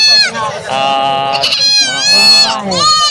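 Several native goats, including mother goats, bleat loudly and repeatedly up close at a goat market in Padre Garcia, Batangas, their wavering cries overlapping with hardly a pause.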